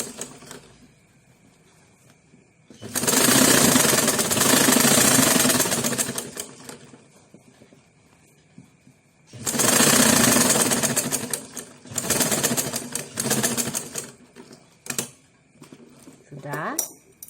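A sewing machine stitches the slit of a pencil skirt in three bursts of rapid mechanical whirring, the first and longest lasting several seconds, separated by quiet pauses with faint handling sounds.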